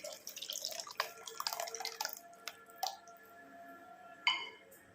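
Ground coconut paste being poured into a simmering vañjaram fish curry, heard as wet drips, splats and squishy plops, faint and close, with a few sharper drops toward the end.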